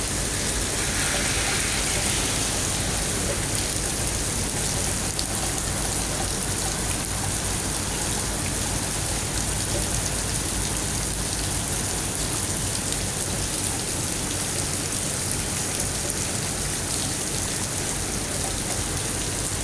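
Heavy rain pours down steadily and loudly, a dense, unbroken hiss of water on surfaces that holds at full strength from start to finish with no letup.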